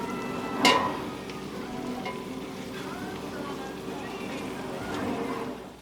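Vegetables for a seafood gumbo sizzle in a pot with a steady, rain-like crackle that sounds close and continuous, broken once by a brief sharp clatter near the start.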